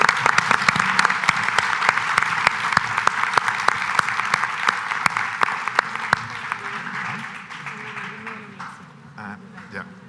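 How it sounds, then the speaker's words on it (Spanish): A conference audience applauds a speaker steadily, sharp claps rattling for several seconds before thinning out and fading toward the end. "así que un aplauso para Ricardo."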